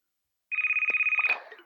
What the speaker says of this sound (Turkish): Telefon çalar.